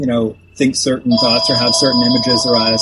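A phone rings with an incoming call, a steady repeating electronic tone running beneath a continuous conversation between people.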